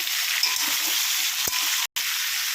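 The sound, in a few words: drumsticks and jackfruit seeds frying and stirred in oil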